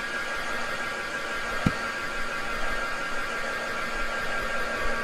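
A hair dryer blows steadily to dry texture paste in a mixed media craft piece, a continuous even whooshing hum with one brief knock partway through and no talking.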